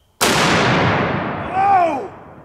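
A .50 caliber rifle fires a SLAP round at a target outdoors, one sharp, loud blast with a long rolling echo that swells briefly again before fading, no talk over it.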